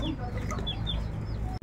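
Several chickens cluck and chirp close by in a busy, overlapping chorus, ending with a short sharp knock.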